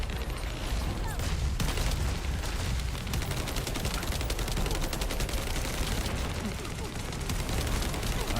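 A summoned turret fires in the video game The First Descendant, rapid, continuous bursts of gunfire rattling loudly throughout, mixed with dense battle noise and a few heavier impacts.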